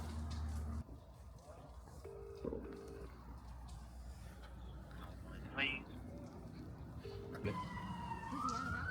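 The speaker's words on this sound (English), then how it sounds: "This might have been the fire engine." A distant fire engine siren wails faintly through a noisy background of chatter and shuffling, with brief electronic beeps and tones cutting in here and there.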